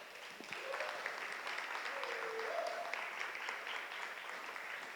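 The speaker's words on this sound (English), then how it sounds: "Clap it up for them." Steady applause from an audience greeting a panel as it makes its way to the stage, dense and sustained throughout, with a brief voice surfacing partway through.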